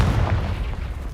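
In the Hogwarts Legacy video game, a Confringo blasting spell goes off as a deep, rumbling boom that lingers briefly, close and heavy with low-end weight.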